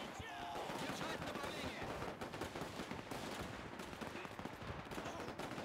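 Anti-tank gun and other weapons firing in Men of War 2 during a defensive battle, a steady rattle of overlapping gunshots and bursts with a voice talking faintly underneath.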